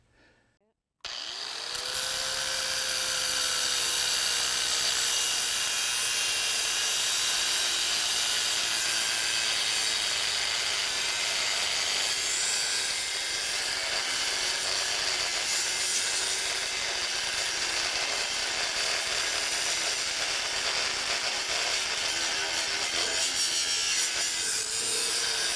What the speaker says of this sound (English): Trying to grind this off without messing up the backhoe